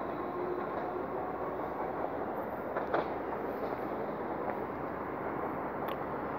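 A Merseyrail Class 508 electric train at Sandhills station in Liverpool rumbles past steadily at close range, with a continuous rolling roar and faint wheel clicks and squeals throughout, and no talking.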